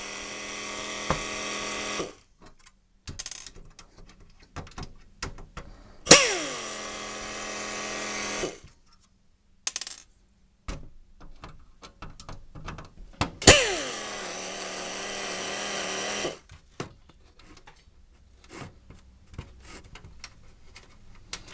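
A power screwdriver backs screws out of a computer monitor during a teardown, whirring in three separate bursts of about two to three seconds each, with quiet clicks and handling noises between them.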